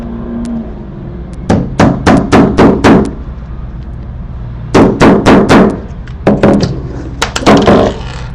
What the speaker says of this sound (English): it hammers your grommet right in there